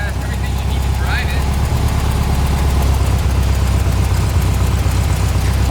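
The engine of a 1968 Volkswagen Bug runs at a steady idle, a loud, continuous low chugging rumble that holds from start to finish, with a brief excited voice over it.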